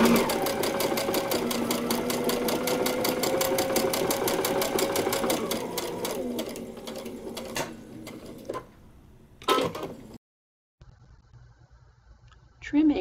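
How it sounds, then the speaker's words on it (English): A sewing machine stitches a paper-pieced quilt block in a steady, rapid run of needle strokes for about eight seconds, then slows and stops, with a few short bursts and handling noises afterward. "So we're going to flip it over and we'll begin to stitch."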